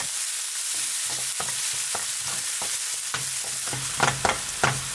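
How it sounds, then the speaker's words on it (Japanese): Onions cooking in olive oil in a frying pan, a soft steady sizzle with a run of rhythmic scraping stir strokes from a utensil, growing a little louder and sharper toward the end. "フライパンにオリーブオイルを熱したらね、玉ねぎを加えて、透明になるまで中火の弱で炒めます"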